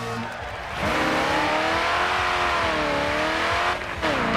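A race car in the video game Grid 2 roars loudly as its engine revs climb and fall through shifts, with tire squeal hints during a drift-style run, no voices.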